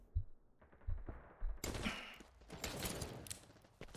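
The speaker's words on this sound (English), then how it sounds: "Oh, I finally shoot him." Rapid video game gunfire, starting with a few sparse shots and then breaking into a loud, sustained burst of automatic fire and a chaotic fusillade, heard close with no talking over it.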